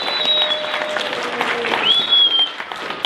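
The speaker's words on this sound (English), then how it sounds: "so just give them a round of applause for being so supportive." Steady applause from a church audience after a play fills the space, dense and continuous, with a couple of high whistle-like tones rising briefly above the clapping.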